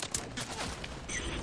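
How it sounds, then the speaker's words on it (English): Rapid gunfire in a Fortnite Battle Royale match, a short dense burst of overlapping shots lasting about a second and a half, loud and close. "Someone's shooting us."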